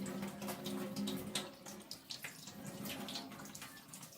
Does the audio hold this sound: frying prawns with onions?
no